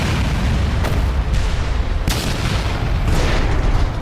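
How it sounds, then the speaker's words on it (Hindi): A heavy, rumbling explosion from a plane crash as a propeller hits the ground, with a deep roar and a few sharp bursts, loud and sustained. "पंखा जमीन से जा टकराया और एक भयानक विस्फोट हो गया"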